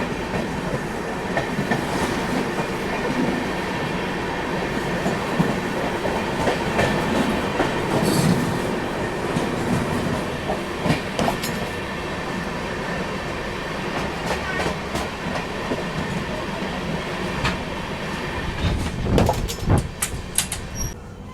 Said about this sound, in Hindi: यहाँ पे क्रॉसिंग हो रही है अपनी Azamgarh Lokmanya Tilak terminus superfast express के साथ, बिल्कुल हरदा स्टेशन के बाद।